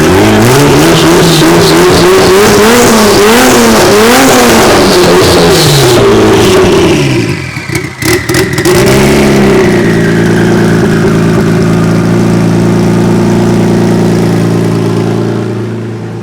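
Twin-turbo DeLorean engine running on a base tune, a loud, close, steady drone with wavering revs in the first seconds, a brief dip, then a settled even idle hum.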